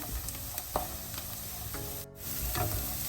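Carrot, peas and chana dal sauté in a pan for rava upma, giving a soft, continuous sizzle with a few faint clicks of stirring and a brief dip partway through.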